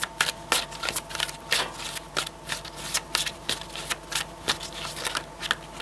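Tarot cards being shuffled by hand, a rapid run of crisp riffling snaps and soft slaps repeating irregularly, close and fairly quiet with no talking.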